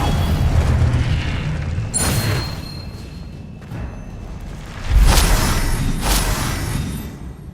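Heavy booming magical blasts from spells cast in Hogwarts Legacy, several deep impacts with bright crackling bursts, loud and spaced a few seconds apart over a rumbling game backdrop.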